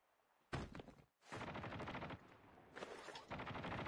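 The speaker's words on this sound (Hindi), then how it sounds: "भाई साहब क्या रैपिड फायर किया उस बंदे ने? 4 गोलियों में खत्म हो गया।" Rapid automatic gunfire in the mobile shooter Call of Duty Mobile: loud, dense bursts of shots rattling in quick succession with brief gaps between volleys, close and without talk.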